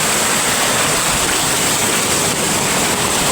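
Steady, loud rush of rainwater pouring down a hillside during heavy village rain, a dense continuous roar like a stream or waterfall with no pauses.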